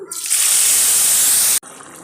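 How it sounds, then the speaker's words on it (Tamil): Water from a pressure cooker, used to cook chicken for chicken sukka, pours into a pan as a loud, steady gush for about a second and a half before cutting off abruptly. "இப்போ எடுத்து ஊற்றி வச்சு குக்கர்லேருந்து இந்த தண்ணி கொஞ்சம் சுண்டணும்"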